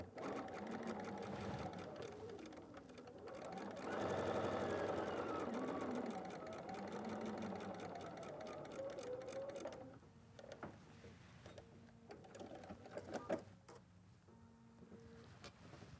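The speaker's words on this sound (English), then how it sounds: "I start sewing just before the square" A sewing machine stitches a quilt square with a seam guide set for a quarter-inch seam, running in steady mechanical bursts that pause and restart, with a voice talking over part of it.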